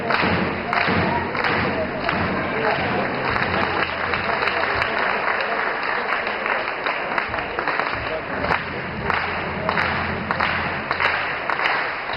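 Steady, dense applause from the crowd in an indoor basketball arena during a women's game between Dunav 8806 and Lukoil Neftohimik, cheering a player as she leaves the court. It stays loud throughout the whole stretch, with scattered thumps.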